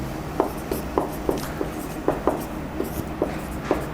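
Handwriting during a math lesson on ratio and proportion, a steady run of short, distinct pen or chalk strokes and taps at an even rhythm, loud and close with no talk over it.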